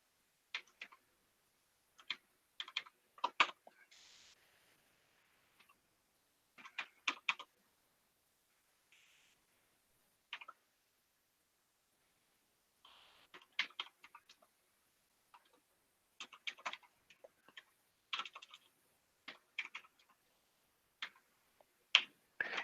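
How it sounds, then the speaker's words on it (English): Keys clatter on a computer keyboard in irregular bursts of quick taps, each flurry broken by short pauses, close and fairly quiet with no talking. "You can tell that I've had very little time typing on this keyboard"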